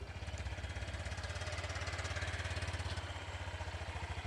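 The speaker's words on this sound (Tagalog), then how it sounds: "Ubuhayin ko po yung makina. Papakinig ko lang po sa inyo yung tunog niya." A Honda Click 125i scooter engine idles nearby with a steady, smooth low pulsing throb that holds evenly throughout, with no talking.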